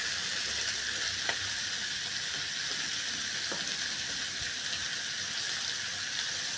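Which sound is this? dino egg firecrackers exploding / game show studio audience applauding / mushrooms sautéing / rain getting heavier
mushrooms sautéing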